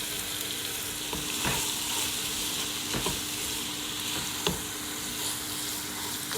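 Marinated prawns fry in a pan for biryani, a steady sizzle with a few soft scrapes and clinks of a spoon stirring them.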